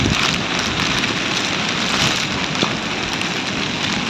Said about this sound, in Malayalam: ശക്തമായ കാറ്റ്, മഴ